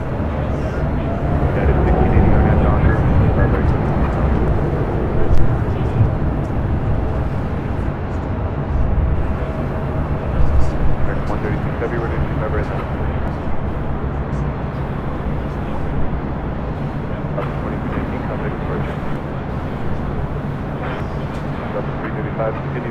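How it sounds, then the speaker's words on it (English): A British Airways Boeing 777-300ER rolls down runway 24 right on takeoff from LAX, its engines a loud sustained roar lasting the whole stretch, with radio voices talking over it. "777-300ER, now rolling down 24 right"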